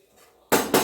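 A spoon scrapes and clatters twice against a hot pan of fried gond (edible gum) with the flame turned off, two brief close metallic bursts after a near-silent start.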